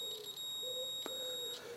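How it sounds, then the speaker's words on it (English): An electrical continuity tester gives a steady, faint beep, a thin tone that cuts in and out over a quiet background with a small click partway through, while testing dashboard cabling on a David Brown 990 tractor. "You can hear beep."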